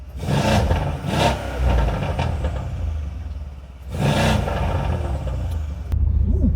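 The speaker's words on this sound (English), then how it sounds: "He said I could give it a rev, so." A Mercedes-AMG C63 S engine gets revved twice, each a loud, rising roar and burble lasting about a second, with steady idle rumble in between.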